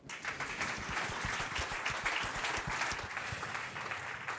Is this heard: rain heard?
no